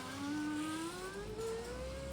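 A Kia Carens base model power window motor hums as the glass travels, a close steady whine rising smoothly in pitch over a couple of seconds with a faint low rumble beneath.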